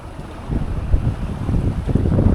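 Sailboat motor sailing with its engine running and headsail up off Greece, a steady low engine rumble mixed with wind buffeting and water wash, close and continuous with no voices.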